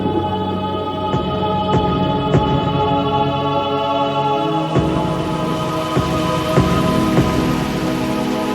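Heavy autumn rain falls steadily and loudly in a forest wilderness, a dense continuous hiss with scattered sharper drips and taps throughout, and no voices.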